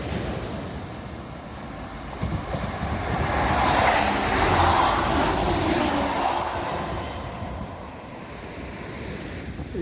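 A train runs along the Teignmouth seawall beside the sea, a long steady rumbling roar that swells and eases, mixed with wind and surf wash, no voices.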